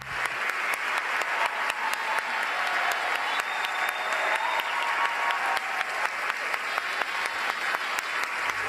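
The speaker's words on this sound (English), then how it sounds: "the 6 women received a standing ovation from the crowd" A crowd at an awards ceremony gives a standing ovation to six actresses, with dense, sustained clapping that stays loud and even from start to finish.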